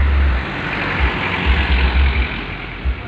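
Rumbling busy road traffic close by, a low engine drone with passing vehicle swells and steady broadband noise, no talking.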